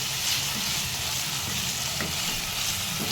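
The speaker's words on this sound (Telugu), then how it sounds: "ఒక 2 చెంచాలు వేసి అల్లం పేస్ట్ని కూడా మంచిగా పచ్చివాసన పోయేదాకా కలుపుకొని ఫ్రై చేసుకోవాలి" Ginger paste, with onion, sizzles and fries steadily in a pan of oil while a prawn curry is cooked, giving a continuous close crackle with faint stirring and no talk.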